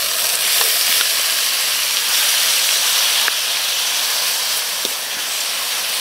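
Marinated beef sizzling loudly in a pan with garlic and onion, a dense, steady hiss of frying and steam filling the whole stretch, with a few faint clicks from stirring.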